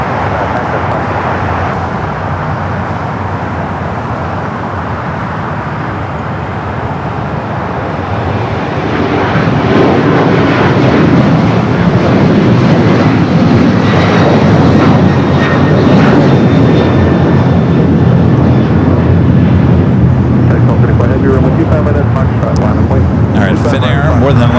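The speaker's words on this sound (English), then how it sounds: "Finnair more than likely heading up for north side at takeoff" A Finnair jet airliner takes off at LAX, its engine roar building from a steady rumble to a loud, broad sustained thrust halfway through and holding strong, heard from nearby on the airfield.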